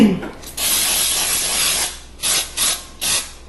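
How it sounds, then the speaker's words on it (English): Hissing bursts of a combined grease-and-flour cooking spray coating bread pans, one long spray followed by several short sharp puffs, close and loud. "the grease and the flour all in one spray"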